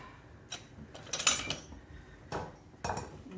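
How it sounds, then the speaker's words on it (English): Utensils and dishes clink faintly while cabbage and potatoes with mustard gravy are served onto plates in a home kitchen. There are a few scattered light taps and scrapes, quiet and close. "dish some up in our plates"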